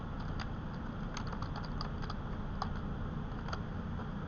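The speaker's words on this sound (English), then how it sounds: "So then I'm going to type in my list, which starts with track." A list is typed on a computer keyboard: a handful of soft, scattered keystroke clicks over a steady background hum, with no talking.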